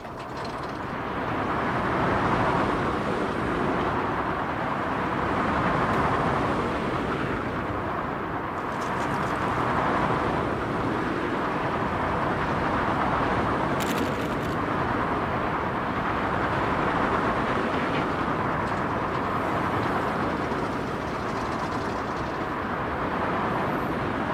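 Steady ride noise of a Vekoma roller coaster in a video game, a continuous loud rumbling roar with rattling and whooshing that swells and eases throughout, no voices.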